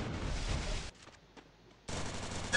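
Automatic gunfire from an online Free Fire Clash Squad match with Tommy gun and AN-94 weapons, loud rapid bursts before and after a short lull, with no talk over it.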